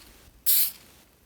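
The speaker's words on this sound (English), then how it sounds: "You want kind of a nice fine mist." A spray bottle puts a fine mist onto a leather steering wheel during a repair, giving a single short, sharp hiss of about a third of a second, close and clear against a quiet room.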